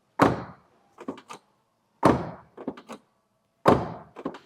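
A 1966 Pontiac GTO convertible's door shut solidly three times, each a deep heavy thunk followed by a few faint latch clicks, with quiet pauses between.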